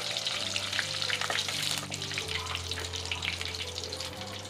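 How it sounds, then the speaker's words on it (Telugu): Mustard seeds and curry leaves frying in hot oil for a Rayalaseema stuffed brinjal curry, a dense, steady crackling sizzle heard up close and continuous, with a low hum underneath and no voices. "ఈ ఆయిల్లోనే 1 ఆవాలు, కొద్దిగా కరివేపాకు వేసుకొని ఫ్రై చేసుకోవాలి."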